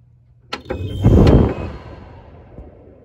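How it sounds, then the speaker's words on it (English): A Germ Guardian AC5900WCA air purifier blower fan kicks on at high speed with a click and a quick rising whoosh of air, peaking briefly then fading into a softer hum. "that is the blower behind the Germguardian air purifier"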